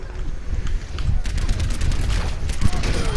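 Rapid gunfire rattles through a competitive shooter match, dense overlapping shots, loud and continuous, with a voice talking over the barrage.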